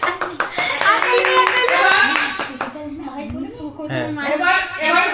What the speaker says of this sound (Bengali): তার জন্য সবাই একটু হাততালি